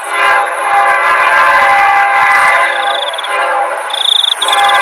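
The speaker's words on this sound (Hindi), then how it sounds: "ट्रेन की आवाज भी अब तेज हो जाती है।" A train approaches along a railway track with a loud, sustained rumbling roar, joined by a high, shrill whine or whistle that comes and goes toward the end, with nothing else over it.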